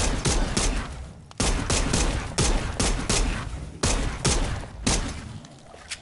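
Rapid bursts of gunfire from a gun in the video game Dead Island 2, loud and close, fired in several clustered volleys with brief gaps between them.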